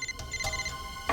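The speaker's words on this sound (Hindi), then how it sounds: "फोन कहां बज रहा है?" A mobile phone ringtone rings from inside a drawer, with short bright repeating tones heard alone and at close range.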